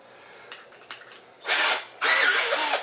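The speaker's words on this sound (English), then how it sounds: "a cordless drill. We'll just use that." Cordless drill used as a mixer to stir cake batter from scratch: a faint whirring start, then two loud, close bursts of high-pitched motor whine churning the mix, with no talk.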